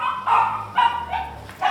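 A small dog barks four times in a steady, evenly spaced series, sharp and fairly close, with no talking over the barks.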